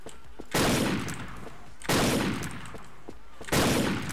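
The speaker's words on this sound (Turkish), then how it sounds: "Gel lan, zoomsuz atacağım sana." Unscoped rifle shots in a first-person shooter game, three loud sharp bursts spaced about a second and a half apart, each with a long ringing decay.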